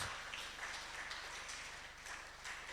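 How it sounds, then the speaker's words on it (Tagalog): Congregation applauding in a church hall during a worship celebration, a steady wash of many hands clapping at a moderate distance, fairly faint, with no voices over it. "isang malakas na palakpak para sa ating Panginoon Diyos"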